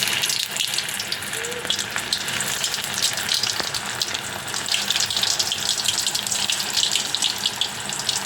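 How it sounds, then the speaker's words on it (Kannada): Potato rolls deep frying in hot oil over a low flame, a steady broadband crackle and hiss that stays even throughout, with a few faint clicks and no talking. "ಈಗ ನಾವು ಲೋ ಫ್ಲೇಮ್ನಾಗ ಇಟ್ಟು ಇದು ರೋಲ್ಸನ್ನು ಫ್ರೈ ಮಾಡಿಬಿಡೋಣ"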